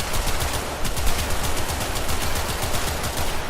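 Sustained rapid gunfire from Baruuk in Warframe during a Kuva Survival mission, a dense continuous automatic stream with steady loudness and no pauses, no speech.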